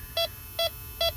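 Three evenly spaced electronic beeps from a refrigerant leak detector, sharp and close, repeating quickly over a low background hum.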